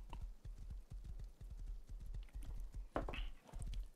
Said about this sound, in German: Ich parke mein Pferd hier ein